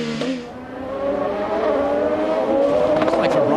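IndyCar race cars in a 2015 race on the Detroit street circuit, engines rising in pitch as they accelerate past, a brief squeal near the start, with commentators talking over the roar.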